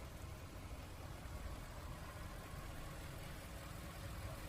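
Faint, steady engine hum from a Bentley Bentayga with a Volkswagen EA825 V8, an even, continuous rumble heard at low level without speech.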